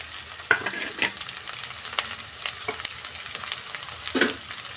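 Chopped carrot with spices and coconut masala frying in a pan: a steady, close sizzle with scattered crackles and a few sharper stirring scrapes, no talk.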